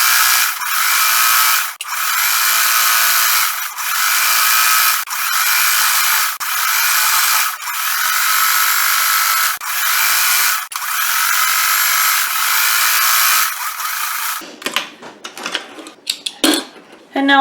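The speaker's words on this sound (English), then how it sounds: "now I'm just going to go around with a zigzag stitch just to reinforce the edges" A sewing machine runs in long continuous bursts with brief pauses while zigzag stitching along the fabric edges of a pillow sham, loud and close, then stops, followed by small handling clatter.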